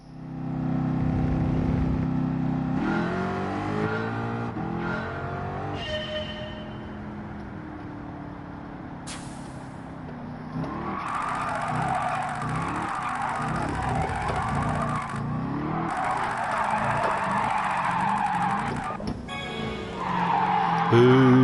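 Race car engine revving and tires skidding in the Gran Turismo 7 racing game, loud and continuous with shifting engine pitch and screeching tire slides throughout.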